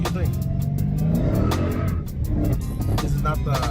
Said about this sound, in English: Isaac's about to go for a little pull on it real quick